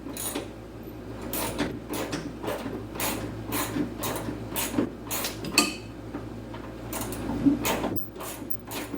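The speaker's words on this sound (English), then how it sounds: "Still kind of surprised how weak my air impact is." An air impact wrench hammers at a sway bar bolt on a 2008 Mustang GT, giving a steady stream of rapid metallic rattling bursts. It sounds close and continuous, with no talking over it.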